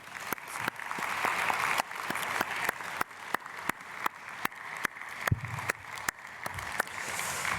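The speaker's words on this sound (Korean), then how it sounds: "우리 크게 박수로 축복하겠습니다." A church congregation at a dawn prayer service claps for a family, a steady, dense patter of many hands with sharp individual claps standing out, sustained throughout at moderate loudness.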